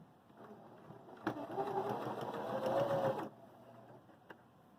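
A Viking Emerald 118 sewing machine stitches a wide zigzag in one short close burst of about two seconds, a fast rhythmic whirring hum that starts and stops abruptly within quiet room tone.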